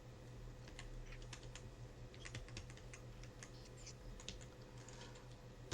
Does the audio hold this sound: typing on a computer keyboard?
yes